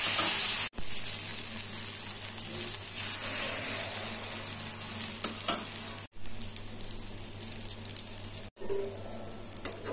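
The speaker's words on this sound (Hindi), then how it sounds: "बटर को तवा में डालेंगे" Butter sizzling steadily on a hot greased tawa for semolina dosa, a constant bright hiss lasting throughout with two brief sharp dropouts, close and fairly loud with no talk.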